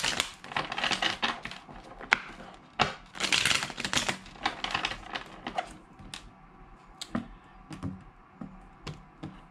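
Tarot cards shuffled by hand, a quick series of crisp riffling and tapping bursts close to the microphone, busiest at first and then thinning to scattered snaps.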